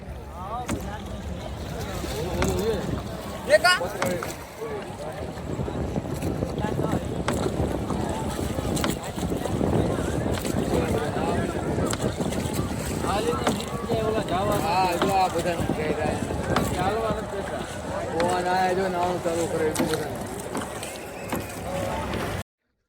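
A boat ride on the river at the Maha Kumbh 2025 in Prayagraj, with steady water and boat noise under heavy wind buffeting on the microphone while people talk throughout.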